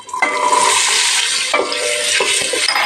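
Carrots dropped into hot oil in a heated pot sizzle loudly and crackle, with stirring scrapes and a few renewed bursts of frying, close and steady with no talk.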